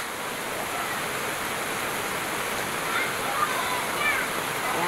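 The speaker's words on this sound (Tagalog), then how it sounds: "ang sasaya nila, naliligo sa ulan" Heavy rain pours down in the first rain of the season as people bathe in it outdoors near the sea, a dense, steady rushing hiss that fills the scene, with faint voices mixed in beneath.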